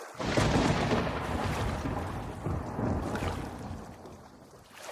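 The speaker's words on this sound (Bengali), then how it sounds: "খালের জলের মধ্যে নৌকা চালাতে চালাতে আবারও মেঘের গুরুগম্ভীর ডাকটা শুনতে পেল তারা দুজন" Deep thunder rumbles on and off across a creek while a boat is rowed through the water, a broad, steady roar filling the whole stretch with no voices.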